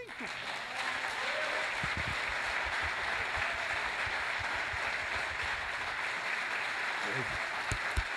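A church congregation applauds a preacher, with dense, sustained clapping that runs steadily throughout, while a voice carries on over it.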